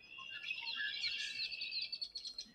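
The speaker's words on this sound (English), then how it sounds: "But here's what a red-winged blackbird sounds like." Red-winged blackbird calling outdoors in spring, a run of bright, buzzy, trilling calls heard fairly close and clear over a quiet background, with the song repeating and fading toward the end.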